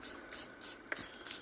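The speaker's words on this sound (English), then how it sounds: "I have some beautiful spray here" A refreshing sea salt hair spray is misted in several soft, quiet hissing bursts at a steady rhythm, close by, with no talking.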